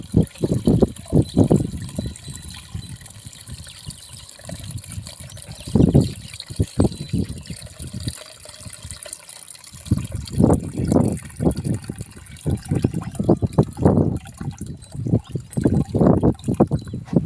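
Water mixed with pesticide for jasmine plants is poured into a container, producing close, irregular splashing and trickling bursts separated by brief quieter gaps.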